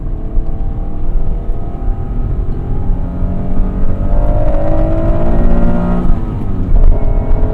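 A 1996 Acura NSX sports car engine revs and drones steadily from inside the cabin on winding roads, rising in pitch as it accelerates, loud and continuous.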